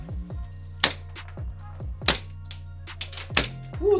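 An Echo 1 TAP gas blowback airsoft pistol fires three sharp, snappy shots about a second apart, each a crisp close crack with the slide's clack, over a low background hum.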